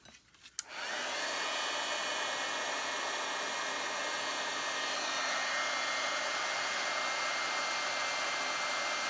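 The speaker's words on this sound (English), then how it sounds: "And then I've got my old cranky heat tool here." An old embossing heat tool switches on after a brief rustle and blows steadily over embossing powder, a loud, continuous close-up whoosh like a hair dryer that holds unchanged to the end.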